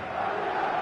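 Stadium crowd roar in a football video game, a steady dense wash of massed voices holding at an even level throughout, with no pauses or peaks.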